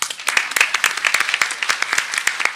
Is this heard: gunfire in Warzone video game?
no